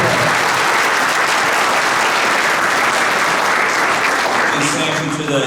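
A large crowd at a town inauguration gives a round of applause for the Attorney General, a loud, dense, continuous roar of clapping, close and steady, with some voices underneath.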